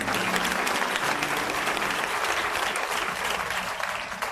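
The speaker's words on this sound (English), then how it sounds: "Let's give God a hand clap of praise." A congregation at a funeral service in Washington, D.C., breaks into sustained hand clapping in praise. It is dense, loud applause that holds steady throughout and fades slightly at the end.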